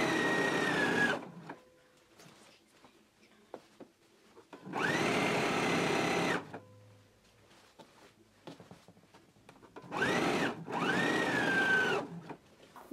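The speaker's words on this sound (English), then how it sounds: "So let's go ahead and sew our sleeve in now." A sewing machine stitches a sleeve seam into a garment in three bursts of steady, rapid whirring, each a second or two long, separated by quiet pauses with faint handling clicks.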